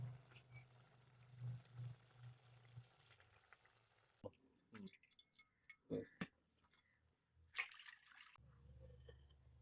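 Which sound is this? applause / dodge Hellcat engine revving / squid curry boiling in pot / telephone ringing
squid curry boiling in pot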